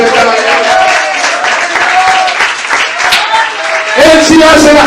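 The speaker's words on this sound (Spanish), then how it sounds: "Y ese aplauso para el Rey de Gloria." A church congregation at a Sunday school service applauds, the clapping running underneath a loud speaking voice and swelling again near the end.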